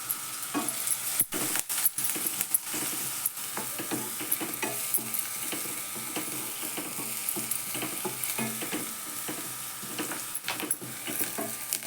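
Finely chopped onion and curry leaves frying in a pan for a chana dal and cabbage dish, giving a steady close sizzle with occasional stirring scrapes and clinks throughout, no talking.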